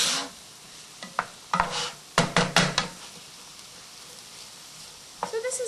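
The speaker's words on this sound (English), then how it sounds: "And we're just going to saute that." Onions and vegetables sautéing in a pan for a jambalaya wrap, with scattered stirring scrapes and knocks of a utensil against the pan over a soft background sizzle.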